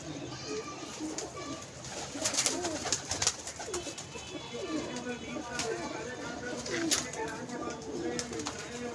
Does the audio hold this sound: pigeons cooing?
yes